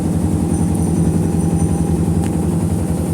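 A washing machine spin-drying while powered by a 1000 VA UPS, giving off a loud, steady motor drone with a constant low rumble and whine that runs unbroken throughout.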